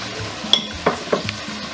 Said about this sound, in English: So as my onion is cooking